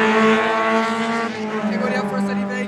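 Race cars in the Força Livre class, some running slick tyres, practise on the Interlagos circuit, their steady high engine drone carrying continuously with a shifting pitch, with voices talking over it.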